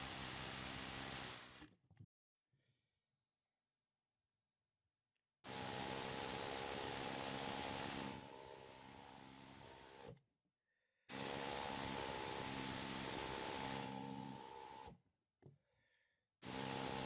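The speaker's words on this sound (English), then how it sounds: "So now I got the rivets chiseled off there." Rivets are chiseled off a vehicle's front end, heard as three loud, close bursts of harsh rattling hiss, each lasting a few seconds, separated by near silence.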